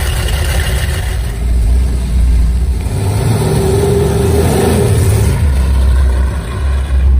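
A 1970 Dodge Challenger's engine rumbles loud and close, surging through revs with a steady low growl and no talking.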